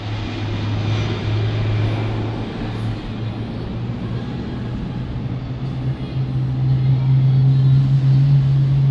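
A steady low jet engine drone that swells louder toward the end, with a broad roar of noise above it and no talking.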